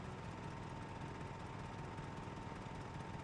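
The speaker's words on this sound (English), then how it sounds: "chainsaws are working again" A chainsaw engine in Project Zomboid runs at a steady, continuous drone, a loud and even buzzing hum throughout with no pauses and no voices.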